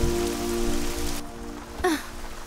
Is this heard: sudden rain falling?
yes